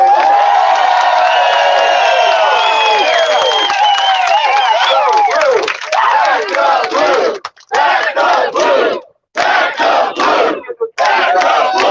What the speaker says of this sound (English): let's give a big round of applause and a hero's thank you to the police officers